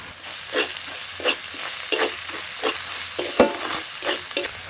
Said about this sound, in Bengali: আদা রসুন পেঁয়াজ সব ভাজা হয়ে গেলে